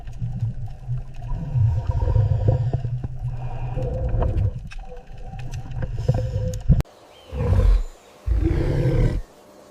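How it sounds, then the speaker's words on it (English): Whale vocalization: long, low, rumbling moans filling most of the stretch, followed by two loud separate groaning calls near the end, deep and resonant with no speech. "This is a whale."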